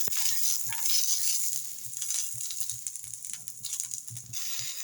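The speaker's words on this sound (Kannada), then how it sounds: "ಕರಿಬೇವು ಹಾಕ್ಕೊಂಡು ಈ ಥರ ಫ್ರೈ ಮಾಡ್ಕೊಳ್ಳಿ" Curry leaves fry on a griddle pan with a bright, continuous close sizzle and crackle, with soft scraping bumps from stirring mixed in.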